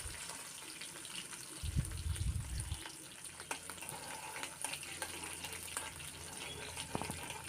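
Garlic and ginger fry in a pan for Kerala-style fish curry, a steady low sizzle with faint crackles and the occasional scrape or stir, plus a brief muffled thump partway through.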